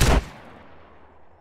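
A single shotgun blast fired in GTA: San Andreas, a loud sharp boom at the start that decays into a short low rumble, with no talking.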